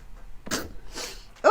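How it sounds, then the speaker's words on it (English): A single sharp sneeze bursts out, blamed on pollen, followed by a lighter breathy second sound and a fresh vocal onset at the end; it is close and fairly loud against otherwise quiet surroundings. "I'm going to sneeze again."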